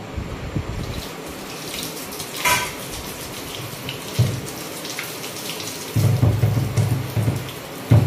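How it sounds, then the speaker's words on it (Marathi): Water runs from a kitchen tap in a home kitchen, a steady splashing stream that comes and goes, louder near the end, with clattering and household sounds around it. "हा तर पाणी चालू"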